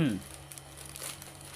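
Thin plastic packaging crinkles and tears briefly as washable gloves are unboxed on a table, a short crisp burst at the start that fades under a voice.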